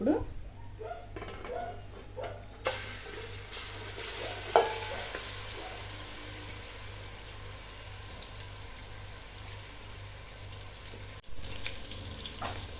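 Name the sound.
marinated chicken frying in hot oil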